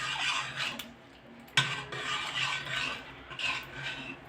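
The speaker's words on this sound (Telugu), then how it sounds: "ఇది బాగా కలుపుకోవాలి" Spoon stirring sambar with sambar powder and chili in a pot, scraping and rubbing against the metal in short strokes, with one sharp clink midway, close and alone.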